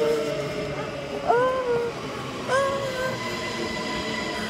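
A train running in Belgium, its carriage noise a constant background. Two short tonal whistle or horn-like calls rise above it, one in the middle and one shortly after.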